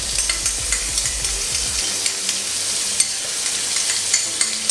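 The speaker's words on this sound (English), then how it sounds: "So they're in now, we're starting to brown them off." Pork tenderloin pieces browning in butter in a hot pan, a steady bright sizzle with occasional stirring scrapes, close and continuous with no talking.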